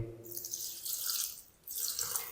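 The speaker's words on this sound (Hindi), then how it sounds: "अब हम ना इसके अंदर थोड़ा सा पानी शामिल करेंगे।" Water trickles and splashes into a blender jug holding white oil and onion for a green chilli salan paste, a soft, close pour with a brief pause midway.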